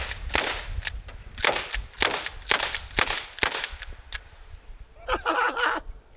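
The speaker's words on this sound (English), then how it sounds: "Now how about a little bit of slam fire into these windshields?" Slam-fire gunshots from a suppressed rifle strike car windshields, with roughly a dozen sharp cracks fired in an uneven rapid string, followed by a brief burst of rattling, clinking debris.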